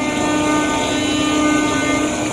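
A passenger train departs Purwokerto station, rumbling steadily nearby with a sustained horn-like tone and faint clickety-clack of wheels, loud and continuous throughout.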